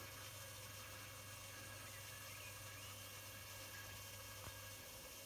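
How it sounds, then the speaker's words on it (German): A water pump runs outdoors between the Hammergraben channel and nearby land, a steady faint mechanical drone with a low hum, heard from a distance under broad hiss and no speech. "Und da drüben hört man wunderbar die Pumpe laufen."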